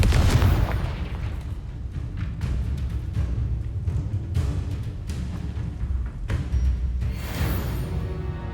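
The Confringo explosive spell goes off in the video game Hogwarts Legacy. Loud booming blasts and crackling detonations come in a dense, sustained barrage, with a few brief dips between bursts.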